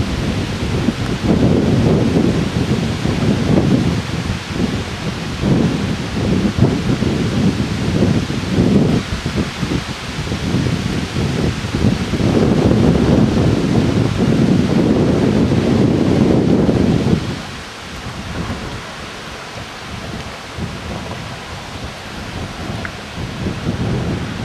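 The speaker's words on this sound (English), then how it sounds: "It's a wicked looking line of storms" A thunderstorm line near Durham, North Carolina, with heavy, rumbling wind buffeting and low thunder-like roar for most of the stretch, then dropping abruptly to a quieter gusty hiss near the end.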